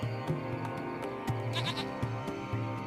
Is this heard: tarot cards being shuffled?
no